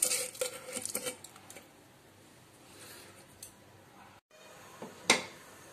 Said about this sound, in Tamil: பாஸ்மதி ரைஸ் போட்டு ஒரு மிக்ஸ் கொடுத்துக்கோங்க